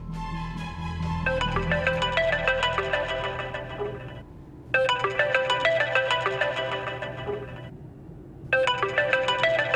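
A phone ringtone plays a repeating electronic melody in three bursts with short pauses between them, loud and close, over a low background hum.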